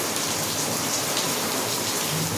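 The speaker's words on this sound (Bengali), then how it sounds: "ঝমঝমিয়ে বৃষ্টি পড়ছে" Heavy evening rain pours down in a dense, constant hiss and patter across surfaces, steady throughout with no voices.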